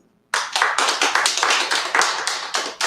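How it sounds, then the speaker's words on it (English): An audience bursts into a round of applause after a brief silence, with brisk, dense clapping that stays steady and fairly close for a few seconds. "let's go ahead and get a round of applause if you would do option number 1"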